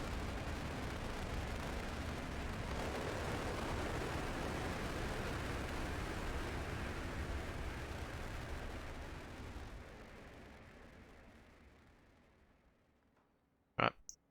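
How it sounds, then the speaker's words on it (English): Rocket launch in the space-agency strategy game Mars Horizon: a loud, steady broadband rumble that holds for about ten seconds, then fades away, followed by a brief sharp click near the end. "Look at the power of the rocket."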